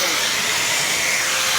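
An angle grinder's disc grinds the threads off a steel spring bolt, giving a loud, steady high-pitched whine without a break over a short stretch.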